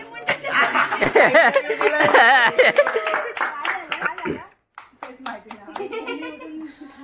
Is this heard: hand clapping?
yes